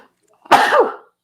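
One sharp, loud sneeze, close by, bursting out of near silence and fading within about half a second.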